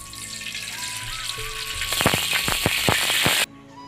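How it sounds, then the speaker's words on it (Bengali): Oil going into a hot kadai (wok), a quiet hiss that breaks into a cluster of sharp, close crackling sizzle bursts over a second or so, then stops abruptly. "কড়াইটা গরম হয়ে গেছে আমি তেলটা দিয়ে দিচ্ছি"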